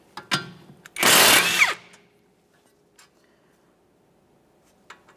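An impact or power tool briefly spins out a caliper bracket mounting bolt on a 1994-1997 Honda Accord 2.2L, giving a loud whirring burst of under a second, bracketed by a few metallic clicks and taps and then quiet.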